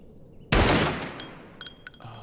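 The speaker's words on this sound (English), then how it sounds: "Now go ahead and take a shot. Don't let the sound of recoil startle you." One sharp, loud pistol gunshot from an anime scene with a girl firing, cracking suddenly out of quiet and fading into a brief ringing, echoing tail.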